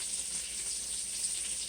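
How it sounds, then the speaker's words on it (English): Food seasoned with black pepper sizzles steadily in a hot pan, a constant bright hiss heard close up and alone, with no talking. "I'm going to let those continue to sizzle"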